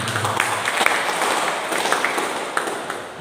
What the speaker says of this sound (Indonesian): Boleh berikan tepuk tangan kami.